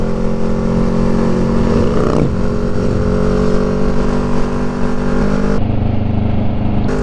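A Kawasaki Ninja 650R motorcycle being ridden, its engine droning steadily and loud at close range, with a brief pitch sweep as it revs, while wind noise rushes underneath.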